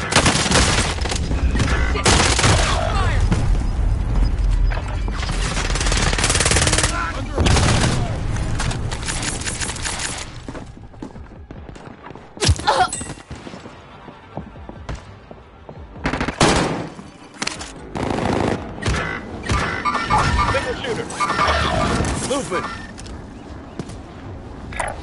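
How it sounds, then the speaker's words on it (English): Heavy gunfire in the video game Warzone, dense fusillades and booming shots, loud and close with pauses between volleys, alongside game radio chatter and effects. "I'm taking fire here."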